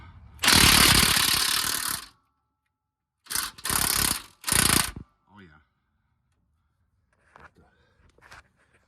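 An old Milwaukee power tool works loose a 30 mm track bar bolt on a 2017–2019 Super Duty truck during a leveling kit install, with one long loud burst followed by three shorter bursts, then faint clinks.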